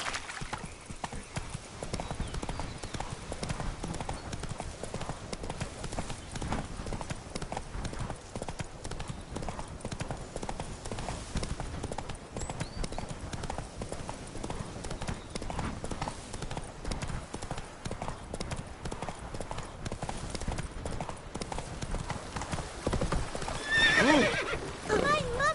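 In The Witcher 3, the horse Roach gallops with rapid, continuous clip-clopping hooves and an occasional whinny over ambient game sound.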